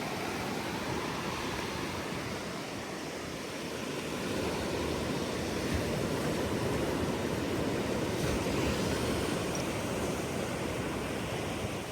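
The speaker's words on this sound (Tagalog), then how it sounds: "Elayda, tabing dagat to." Seashore waves wash in a continuous broad roar of surf, steady and fairly loud, with a slight swell partway through and no voices.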